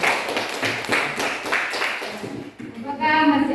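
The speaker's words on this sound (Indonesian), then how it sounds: "Ya, tepuk tangan buat teman-teman." Classroom students applauding classmates, a quick run of rhythmic handclaps over murmuring voices for a couple of seconds, then giving way to a sustained musical tone.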